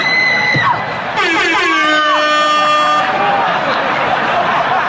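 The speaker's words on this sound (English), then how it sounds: "That air horn always pushes the joke through." An air horn blares during a stand-up comedy set, its long pitched blasts over a loud, cheering and whooping crowd.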